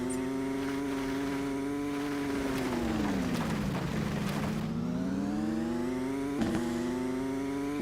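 A classic rally car engine in the Rally One video game drones and revs steadily, close and loud, its pitch dipping and then climbing again, with a brief sharp knock near the end.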